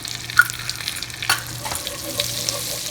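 A teaspoon of cumin seeds hits melted butter in a pan, giving a light crackling sizzle with small pops and stirring scrapes, close and fairly quiet.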